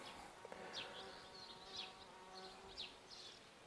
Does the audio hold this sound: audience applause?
no